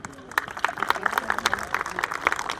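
An audience claps together at the closing ceremony and award night of the Rajasthan International Film Festival. The applause is a dense, steady patter of many hands, fairly close, and lasts the whole stretch.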